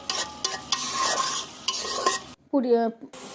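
A cauliflower-potato filling with spices is stirred and fried in a pan, with a steady close sizzle broken by sharp spoon scrapes, then a pause and a squeaky scrape at the end.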